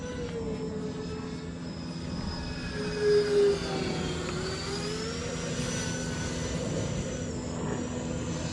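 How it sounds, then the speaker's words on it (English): A full-scale fighter jet flies by at an RC jet flying session, a steady, fairly distant roar with a high whine that slowly shifts in pitch over several seconds, with no talking. "I hear a full-scale fighter jet going by."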